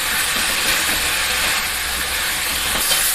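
Kachur lati (taro stolons) added to hot oil in a pan, giving a steady, loud hiss of sizzling that continues evenly throughout with no talking.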